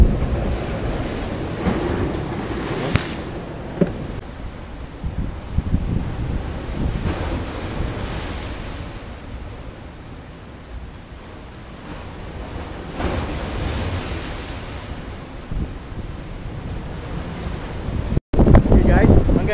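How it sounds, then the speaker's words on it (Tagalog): Strong waves surge at sea under monsoon winds on a fishing outing, surf crashing in repeated swells while gusts buffet the microphone, rising and falling in loudness. "Medyo lumakas lalo yung abagat, oh. Makikita niyo sa likod ko, lakas ang alon, ano?"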